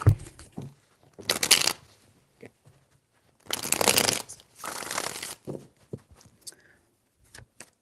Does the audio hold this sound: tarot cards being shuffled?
yes